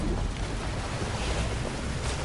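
Ocean waves and wind rush around a boat on open water in Horizon Forbidden West, a steady, dense wash of water and wind noise with no talking.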